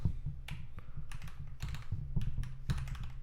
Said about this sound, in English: typing on this thing is weird after doing ortholinear for so long